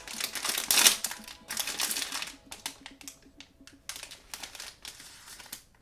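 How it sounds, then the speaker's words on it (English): Pop Mart blind box packaging ripped open quickly, giving a burst of crinkling and tearing up close, followed by softer intermittent rustling and handling of the wrapper. "We just have to rip it really, really fast."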